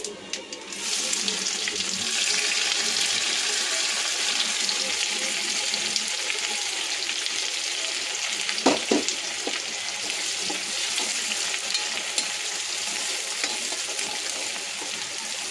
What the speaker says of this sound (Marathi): कांदा चांगला फ्राय करून घ्या.